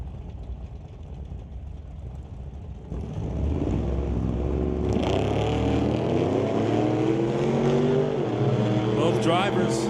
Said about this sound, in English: So the pair of 55 Chevys inching their way towards the pre-stage beams.